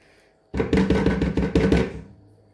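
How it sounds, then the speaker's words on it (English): Rapid rhythmic tapping of a whisk beating cooled crème pâtissière in a bowl, a loud close burst of about a second and a half that starts abruptly and fades out. "I'm gonna whisk it up in the bowl so it's cooled down now"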